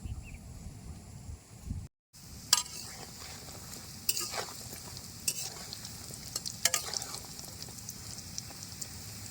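Mung dal dhoka pieces fry in a pan with a continuous close sizzle like light rain, broken by a brief gap early on and then sharp scraping turns and clinks at intervals.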